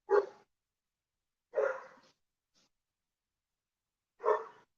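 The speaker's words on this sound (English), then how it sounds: "if you can hear, my dog is freaking out and I don't know why." An agitated dog barks three separate times at close range, each bark short and sharp, with long silent gaps between them.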